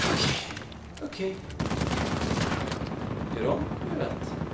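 Rapid bursts of gunfire and explosions from the video game Uncharted 4 crackle loudly and continuously, with a voice speaking over them.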